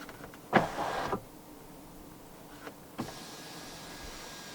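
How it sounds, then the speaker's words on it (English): The motorized sunroof of a 2024 Volvo XC60 Recharge T8 tilts open as a vent, a short electric motor whir with a soft click, followed by two fainter mechanical clicks in a quiet cabin. "tap the middle portion to open up the sunroof as a vent"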